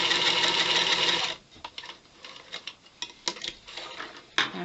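A sewing machine stitching quilt flying geese pieces in a short steady whirr at the start, then stopping, followed by scattered clicks and taps of fabric handling.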